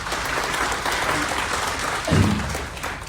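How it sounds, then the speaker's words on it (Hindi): Audience applause at a Hindi-language IMC product seminar, a steady wash of clapping through the whole stretch, swelling slightly near the end, with no talk over it. "तो इनके लिए तालियां होनी चाहिए।"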